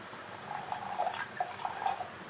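Water poured into a pot of vegetables, cooking dal rice for a baby, making a steady splashing, gurgling stream close by, with a few brief bubbly bursts and no talking.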